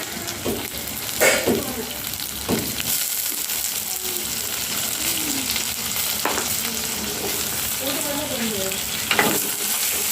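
Onions sizzle steadily while being sautéed in a pan for fish curry, with occasional scrapes and clatters of stirring, close and moderately loud, and a voice speaking faintly in the background.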